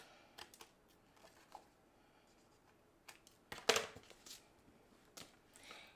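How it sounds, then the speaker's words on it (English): Quiet crisp scissor snips along a card edge and light paper clicks come in scattered bursts, with a cluster of sharper cuts partway through, close and soft. "I'm going to snip the edge."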